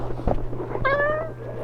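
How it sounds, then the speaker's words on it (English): A cat meows, a single drawn-out rising-and-falling call heard close over steady background hum and faint game sounds in a room where people are playing Donkey Kong 64. "we're randomly being invaded by cat"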